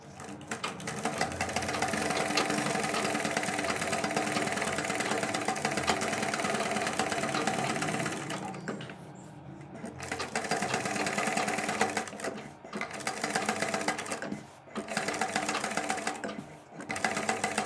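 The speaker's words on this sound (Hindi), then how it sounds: "इसको हम बाहर की तरफ सिलाई लगाकर बिल्कुल पैक कर देंगे" A sewing machine stitches the neck of a kurti or suit, running as a fast, steady whir close by, with several short pauses in the second half and no talking.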